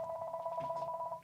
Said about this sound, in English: the phone is endlessly ringing